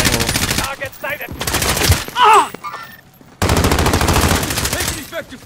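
Rapid automatic gunfire rings out in the video game Modern Warfare, in loud, fast bursts broken by short pauses, with brief voices mixed in.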